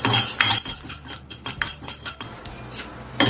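Cumin and other spices are dry-roasted in an oil-free kadai, with a metal spoon scraping and clinking against the pan in uneven, close strokes. Short bursts of stirring alternate with brief quieter gaps.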